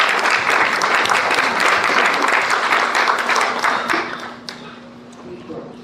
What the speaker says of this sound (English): I think we ought to give Mary Ann a round of applause.